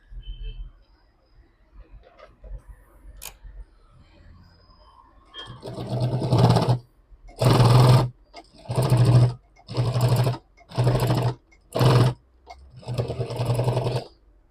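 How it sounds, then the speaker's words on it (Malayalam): Sewing machine running a piping stitch along a crossbody bag, heard in a series of five or six loud, close bursts of rapid stitching separated by short pauses, after a quieter stretch with faint handling sounds. "ഇത് നമ്മളൊന്ന് ജസ്റ്റ് ഒന്ന് പൈപ്പിങ് സ്റ്റിച്ച് ചെയ്ത് കൊടുക്കുകയാണ്"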